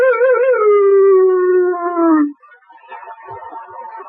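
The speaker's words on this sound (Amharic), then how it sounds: "አለ የቀበሮ ልቅሶ የመሰለ ጩኸት" A fox-like wailing howl rises as one long, loud, wavering cry that slowly falls in pitch and cuts off, followed by faint scattered rustling.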